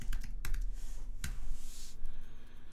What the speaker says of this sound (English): let's just go in here and do an npm run start. Or you can just type npm start.